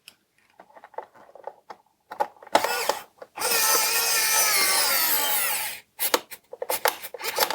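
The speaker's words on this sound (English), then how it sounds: "Of course, we are using a flat screwdriver." A flat screwdriver drives screws into a vintage Polamp desk lamp, with scattered scrapes and taps followed by a longer, louder grinding stretch of turning, then more short knocks, all close up with no talking.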